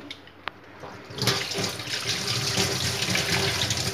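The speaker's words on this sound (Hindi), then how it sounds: "और ऐसे ही हम इसको भी वॉश कर लेंगे" Tap water runs as bitter gourd is washed in a kitchen. After a brief knock, a steady splashing rush begins and continues close and loud with no talk.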